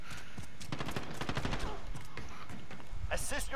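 Rapid gunfire crackles through a Call of Duty: Modern Warfare multiplayer match in a dense burst of close shots, with more bursts near the end and game sound effects layered underneath.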